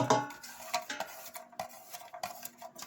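Food dumped into a cooking pot holding celery and onions, a quick series of soft clinks, scrapes and taps against the pot, close and quiet.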